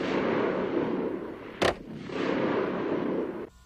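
A Heckler & Koch G11 rifle loaded with caseless ammunition lets off one sharp, abrupt burst report midway through, set against a steady wash of background noise, with no voices.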